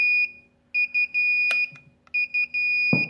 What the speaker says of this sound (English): Went over 23, the alarm goes off.